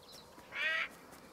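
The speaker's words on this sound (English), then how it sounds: "The owl is so loud." An owl calls once in the wildlife exploration game Alba: A Wildlife Adventure, a short hooting tone rising out of soft ambient background, fairly close and clear.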